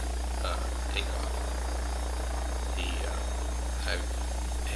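An AW109 SP helicopter in X-Plane 12 during a transition-up takeoff, a steady loud low engine and rotor drone throughout, with faint higher whines and clicks over it.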